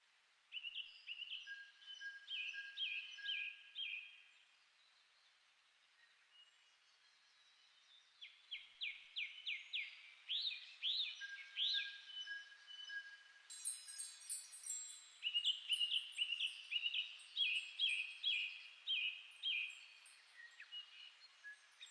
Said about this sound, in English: You will be hearing in the background some kind of nature sounds of the birds chirping.